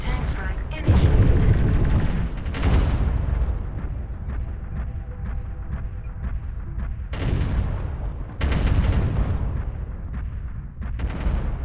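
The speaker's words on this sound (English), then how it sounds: "Tank strike protocol active. Tank strike initiated." Heavy artillery explosions from a tank strike in a military video game, several deep booming blasts arriving in bursts around 1, 2.7, 7 and 8.5 seconds over continuous rumbling battle noise.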